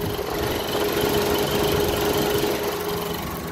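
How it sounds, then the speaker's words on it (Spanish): Radiator cooling fans whirring steadily on a 2003 Honda Civic DX with a 1.7L engine that overheats, a continuous mechanical drone with a faint tonal hum, close and constant throughout. "Ya prendieron los ventiladores, ya están trabajando aquí, miren."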